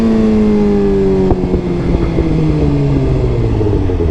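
A Suzuki GSX-R sport motorcycle accelerates hard in third gear at around 80 mph, its engine whine loud and close, rising in pitch with a brief dip as it shifts, over strong wind rush.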